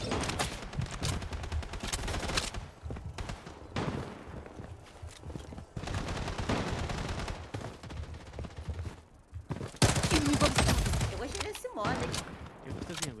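Gunfire in the mobile shooter Blood Strike: rapid bursts of shots in a busy, continuous stretch, some near and some farther off, with players talking over them.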